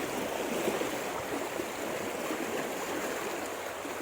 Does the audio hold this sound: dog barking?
no